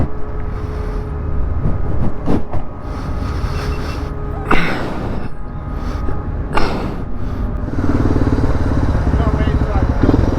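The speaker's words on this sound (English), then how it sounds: "Better get back on the bike." Motorcycle getting back underway after a short ferry crossing: a steady engine drone that rises as it pulls away near the end, with rider speech over it and wind buffeting the mic.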